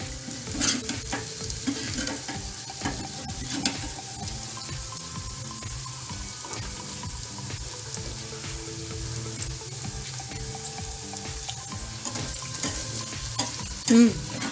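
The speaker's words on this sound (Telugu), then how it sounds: "ఇప్పుడు కాకరకాయ ఫ్రై అయిందండి." Bitter gourd slices fry in a pan with a moderate, steady sizzle while a spatula repeatedly scrapes and stirs them, producing rhythmic scraping and clinking throughout and a louder knock near the end.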